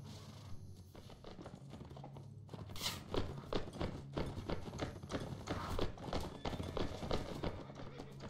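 A horseman galloping into troops in Mount & Blade Warband, rhythmic hoofbeats over a busy battle din that thickens midway.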